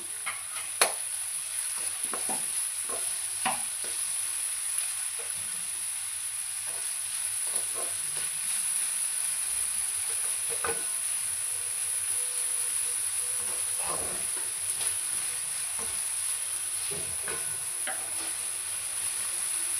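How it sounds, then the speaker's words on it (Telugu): Onions and capsicum frying in a pan for street-style egg noodles, a steady soft sizzle with occasional stirring clicks and scrapes throughout, close and moderately loud, with no talking. "ఆనియన్స్ వేసిన తర్వాత అది ఫ్రై అవుతూ ఉంటుంది అప్పట్లో మనం క్యాప్సికమ్ కూడా వేసుకోవడమే"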